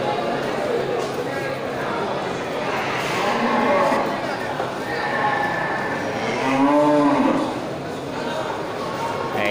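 Large cattle at a livestock market lowing several times over a busy, noisy crowd, with people talking throughout and one longer moo near the end.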